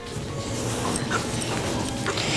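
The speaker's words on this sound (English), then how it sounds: "This is my dog, Lily." A rescued pet dog whimpers and gives small yips and barks close by, restless whining sounds over a dense background.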